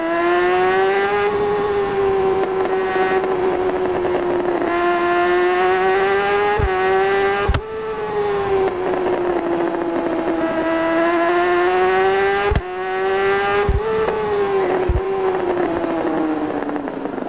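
A motorcycle engine in the racing game RiMS Racing drones at high revs, its pitch rising and falling through gear changes, with a few sharp clicks and a brief protest from the tyres, loud and continuous.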